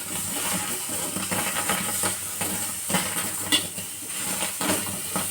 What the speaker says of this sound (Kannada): ಹೀಗೆ ಚೆನ್ನಾಗಿ ಸ್ವಲ್ಪ ಫ್ರೈ ಮಾಡ್ತಾನೆ ಇರಬೇಕು. ನೋಡಿ ಸೌಂಡ್ ಹೆಂಗೆ ಬರುತ್ತೆ, ಕುಟು ಕುಟು ಕುಟು ಅಂತ.